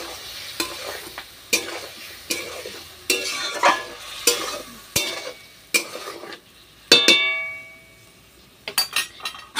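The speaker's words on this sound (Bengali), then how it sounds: "আবার এটা একটু কষাবো।" Spiced vegetables for a thin raw banana, papaya and potato curry sizzle in a pot with a little water as a spoon stirs them, giving repeated sharp scrapes and clinks over a steady frying hiss, close and fairly loud.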